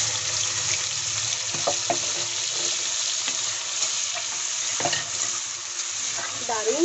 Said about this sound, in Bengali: ওই একই কড়াইতে দিয়ে দিচ্ছি বেটে রাখা মশলা।